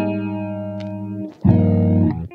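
Electric guitar passes through a lo-fi plugin whose filter imitates an old record player, giving a narrowed, dulled tone. A sustained chord fades, then a fresh strum rings out loud, with no voices.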